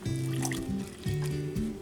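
Water pours into a cup for cake batter, a close, quiet filling sound with a rising tone over two short pours.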